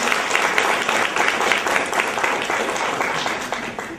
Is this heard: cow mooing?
no